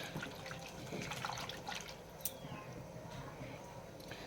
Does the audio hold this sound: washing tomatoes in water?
yes